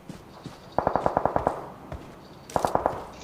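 Two bursts of rapid automatic gunfire in the mobile battle-royale game PUBG Mobile: a longer string of about eight sharp shots, then a shorter burst of four, with faint quieter shots between.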